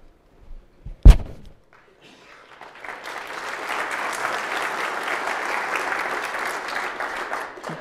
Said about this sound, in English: And with that ripple of applause